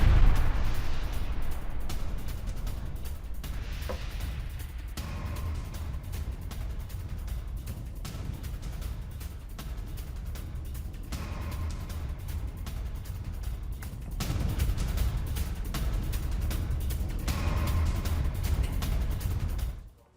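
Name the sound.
IDF explosives detonated simultaneously in Lebanese village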